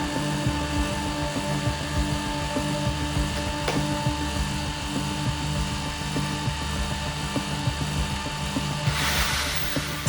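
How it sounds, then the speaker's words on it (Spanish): An electric drill's motor whines steadily with a buzzing drone, holding an even pitch throughout, with a brief burst of hiss near the end. "Ahora conectaremos de nuevo el taladro."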